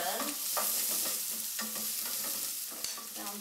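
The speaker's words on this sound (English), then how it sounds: "You have to very quickly add the chopped garlic. Give that a stir in, making sure it doesn't burn" Chopped garlic sizzles steadily in a very hot pan while being stirred, with a continuous bright frying hiss broken by several scraping, clattering stir strokes, close and fairly loud, no voices.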